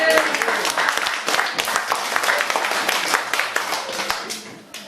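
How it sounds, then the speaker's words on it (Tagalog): A church congregation claps enthusiastically, a lively burst of many hands producing sharp, uneven claps that gradually thin out over a few seconds, with voices faintly mixed in. "Diya sa masigapong palakpak."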